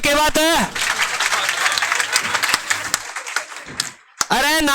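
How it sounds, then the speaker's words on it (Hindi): Applause at a REET farewell program, a few seconds of dense clapping from a crowd, with people talking just before and after. "ताली बजा दो, क्या बात है?"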